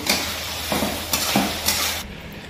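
Potatoes frying in a pan during a casual cook-up among friends, a steady close sizzle broken by several scraping stir strokes of a utensil against the pan, with no talking.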